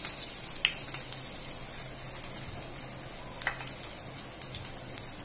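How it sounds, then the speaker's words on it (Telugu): Ginger and garlic frying in hot oil for egg fried rice, a soft continuous sizzle with a few sharp crackles and spatters, quiet and near. "ఆయిల్ వేడైపోయింది ఇప్పుడు ఇందులో మనం జింజర్ గార్లిక్ వేసుకోవాలి"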